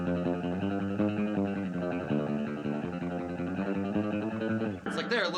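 An electric guitar plays chords and sustained notes through a Fender Vaporizer amplifier with the reverb turned all the way up. The tone is full and continuous, and a bright pick scrape comes near the end.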